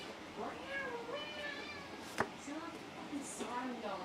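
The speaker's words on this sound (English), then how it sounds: "People call him a kitty cat, but nah, he's a fluffy meow." A fluffy house cat meows repeatedly nearby, several drawn-out, rising and falling cries heard fairly faintly, with a soft voice murmuring in the background and a brief click midway.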